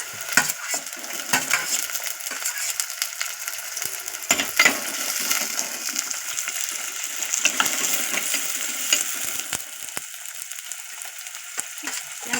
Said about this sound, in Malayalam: ഒന്നുള്ളിയും കൂടെ ഈ കൂടത്തിൽ ഇട്ടങ്ങ് വഴക്കും